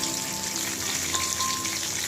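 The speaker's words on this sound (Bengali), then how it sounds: "আর এদিকে মেয়ের জন্য মাছ ভাজা হচ্ছে" Fish frying in hot oil in a home kitchen pan, a steady dense sizzle and crackle running unbroken and fairly close, with no voices over it.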